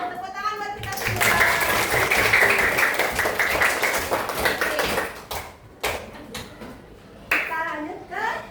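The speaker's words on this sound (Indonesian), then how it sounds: "Tepuk tangan buat kita semua." Children in a classroom lesson burst into a dense round of hand clapping that lasts several seconds, then trails into a few scattered claps as a teacher and kids speak.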